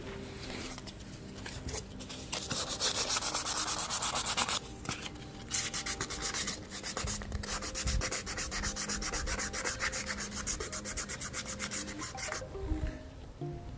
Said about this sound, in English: Alright, so the calipers are sanded.